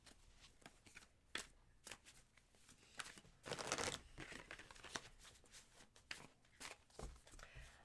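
Tarot cards being shuffled close by, a series of quick riffling and slapping bursts in an irregular rhythm, quiet and alone without talk.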